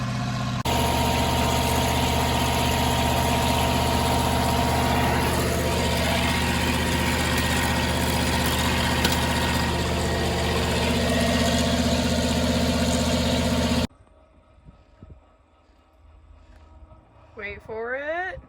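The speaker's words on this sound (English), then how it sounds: "Now I just need to shut the engine off." Loud, steady tractor engine idling with a deep rumble for most of the clip, then it cuts off abruptly, leaving quiet before a voice speaks.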